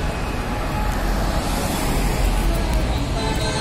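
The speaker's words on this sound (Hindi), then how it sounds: "नीचे से भी ट्रैफिक बहुत इजीली जा रहा है" Road traffic flows beneath a bridge over the Kukrail in a steady, dense roar of cars and heavier vehicles. It is loud and continuous with no clear gaps between passes.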